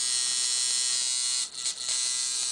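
A high, fast electric buzz from a coil tattoo machine runs continuously, whirring at speed, with a brief dip and flutter partway through.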